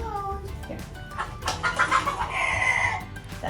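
A chicken clucks in a string of short, throaty calls that swell in the middle and hold steady, heard fairly close over a low background hum.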